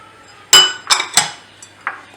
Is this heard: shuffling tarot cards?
no